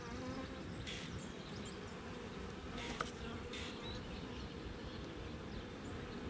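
Honey bees buzz around a hive frame during an inspection of a new colony, a steady, soft drone of many wings close by with no talking.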